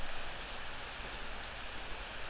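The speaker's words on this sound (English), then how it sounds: "It's raining." Rain falls in the horror video game Ao Oni as a steady, even hiss of downpour, moderately loud and continuous, with no other sounds over it.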